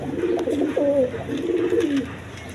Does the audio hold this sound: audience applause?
no